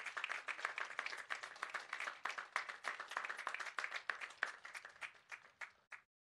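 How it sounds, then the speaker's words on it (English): A commencement ceremony audience applauds faculty and staff with steady, dense clapping from many hands, loud and continuous, thinning toward the end before stopping abruptly. "let's give a round of applause to our dedicated faculty and staff"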